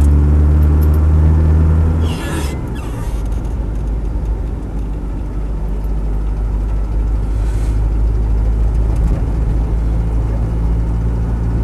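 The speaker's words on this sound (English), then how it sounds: "there's a slight chuffing sound from the exhaust" A Land Rover 90 County Station Wagon engine idles with a steady low rumble, and a soft rhythmic chuffing from the exhaust runs beneath it throughout.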